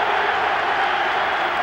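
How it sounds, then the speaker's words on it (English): Warm applause from a football crowd echoes around the San Siro stadium in Milan in the Serie A 1993/94 season, a steady even roar of clapping with no break through the short moment. "the rich applause that echoes round the San Siro is all for Sebastiano Rossi"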